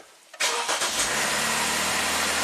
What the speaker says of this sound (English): I'm going to start it up with the mass airflow sensor unplugged